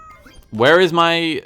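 A cartoonish cat meow from the Super Auto Pets game, two rising-and-falling tonal cries close together, loud and clear, following a quiet moment.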